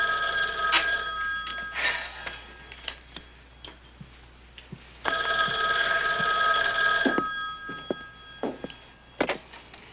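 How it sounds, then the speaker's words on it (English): An old-fashioned telephone bell rings in two loud bursts several seconds apart, with quieter clicks, knocks and indoor movement around them. "Telephone's ringing."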